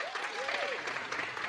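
Audience applause at the KPMG Children's Books Ireland Awards 2023 shortlist announcement, a steady, dense clapping from a crowd that fills the whole moment at an even level, with a hint of voice mixed in.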